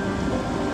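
Steady rain falls outdoors during gold panning in France, a dense, even hiss with no voices over it.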